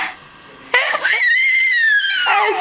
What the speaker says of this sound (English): Screeching and screaming